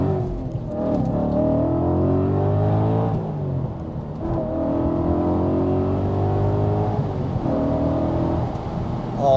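Audi RS4 B7 with a 4.2 V8 and stage 1 tune revving and accelerating: deep engine note climbing through two long pulls with a brief drop between gear changes, loud and close.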